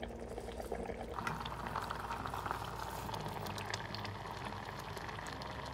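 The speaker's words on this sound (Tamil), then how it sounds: "இதுல நம்ம 1 மணி நேரம் ஊற வச்ச பாசுமதி ரைஸ் சேர்த்துக்கலாம்" A biryani pot bubbles and seethes steadily at a rolling boil as soaked basmati rice goes in, a continuous moderately faint liquid churn with no voices.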